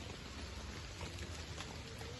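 Steady rain at a campsite, falling on tents, heard as a faint, even hiss that runs without a break.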